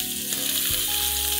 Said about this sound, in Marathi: आलं लसणाची पेस्ट थोडीशी परतून घेतली